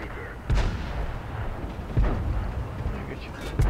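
Artillery fire in a tank video game: three heavy booms spaced about a second and a half apart, each a deep thud with a short rumbling tail over a constant background roar.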